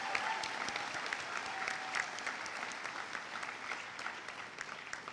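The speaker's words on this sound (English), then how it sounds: "Let's give them a big round of applause." Steady applause from an audience at a middle school moving-up ceremony, a dense continuous patter of many hands clapping, heard at moderate distance throughout.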